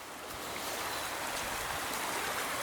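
Hororata River stream flowing over rocks on a cold day after recent rains, a steady broadband rush of water that stays loud and continuous throughout, with no talking.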